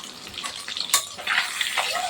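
Washed fish frying in a pan at home, a moderate crackling sizzle with a sharp clatter of utensils near the middle and bursts of spattering toward the end.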